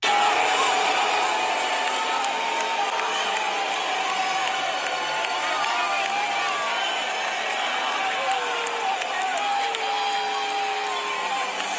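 A large stadium crowd at a Commanders vs. Lions football game sends up a sustained, loud roar of booing and jeering, a dense wash of many voices that holds steady throughout.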